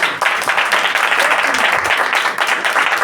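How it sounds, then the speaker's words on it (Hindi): A church congregation at a Sunday worship meeting claps together, a dense, lively burst of applause that holds steady for about three seconds with some voices mixed in. "अब तालियां कहाँ हैं?"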